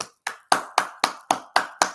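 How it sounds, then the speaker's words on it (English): Applause for a performer's young niece at a live comedy or talk show, heard as a series of about eight sharp, evenly spaced claps, almost one every quarter second, close and clear with no talking over them. "Everybody give Janelle a round of applause"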